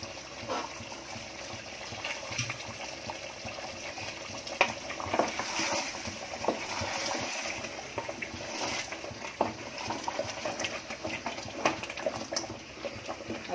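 Chicken for white biryani stirred in a pot with a spoon: steady sizzling bubbling under soft, continuous scraping and stirring, close and moderately quiet.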